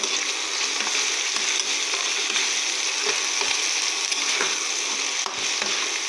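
Chicken frying with chilli, coriander and cumin powder gives a loud, steady, dense sizzle throughout, with scraping stirs of a spoon scattered through it and no talking.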